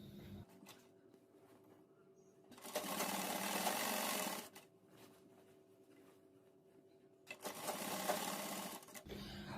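Electric sewing machine stitching the side seam of a dress bodice (choli), two loud sustained runs of rapid needle chatter separated by a quieter pause with faint handling sounds.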